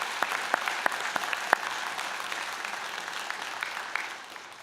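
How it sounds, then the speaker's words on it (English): Graduates at a fall convocation applaud together, a dense, sustained crowd clapping in a hall that holds steady, then fades slightly at the end. "how about you give a round of applause to everyone who helped you get to this important moment"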